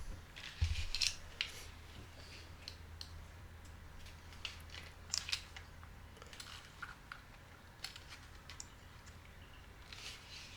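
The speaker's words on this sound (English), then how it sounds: "then just snip it off" Cutters snip off the excess tail of a cable tie fastened around the drive shaft of an MJX 10306 Ford Mustang RC car, giving a few faint, sharp clicks and snips close by against a quiet background.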